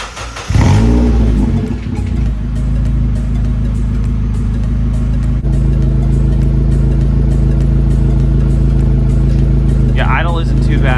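A Mazda Miata engine starts and settles into a steady idle through a custom dual-tip center exhaust, a loud, close, continuous low rumble, with a brief higher burst near the end.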